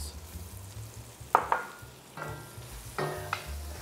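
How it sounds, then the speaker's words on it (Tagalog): Garlic and onions frying in a pan for chicken sotanghon soup, a soft low sizzle broken by three or four distinct spatula scrapes and clinks against the pan. "You put your garlic and then you brown it a little bit."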